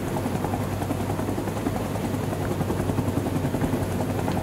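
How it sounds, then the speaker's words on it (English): Helicopter in the Vietnam War shooter Rising Storm 2: Vietnam, a steady, loud rotor thrum with rapid blade chop running through the whole stretch without pause, with no talk over it. "How long did you spend flying helicopters in your spare time, Ice-T, to get so good?"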